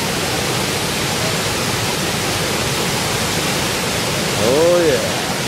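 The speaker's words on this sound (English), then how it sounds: "And here is the waterfall." A waterfall on a Vermont stream roars as a dense, steady hiss of falling water, loud and unbroken, with a short whistling tone near the end.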